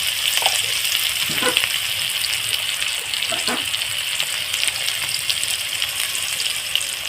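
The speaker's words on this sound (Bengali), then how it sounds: "দেখুন পেঁয়াজটাকে আমি হালকা করে ভেজে নেবো" Onions lightly frying in oil for a thin spicy rohu fish curry, with a loud, continuous sizzle and a few scraping stirs near the pan.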